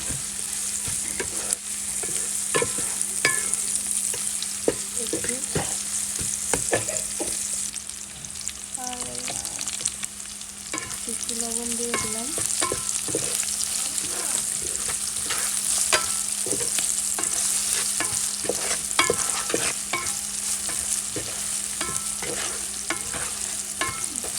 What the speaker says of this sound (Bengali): এই জন্য একটু পেঁয়াজ মরিচ দিয়ে দিচ্ছি